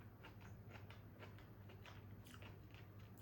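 Someone close by bites into and chews chicken chilli fry with crunchy vegetables, giving a run of small, repeated crunching bites, faint and with no talk.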